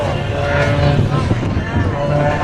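Rob Holland's aerobatic aircraft performs the Cardiac Express maneuver at the 2021 Great Florida Air Show, a loud, steady engine and propeller roar that holds throughout the 2.5 seconds, with wind buffeting the microphone.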